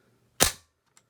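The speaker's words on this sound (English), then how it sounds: "once it's all back and reinstalled, it should fire like this" Norinco T97 trigger group dry firing, a single sharp metallic snap, close and loud, followed by a faint small click a moment later.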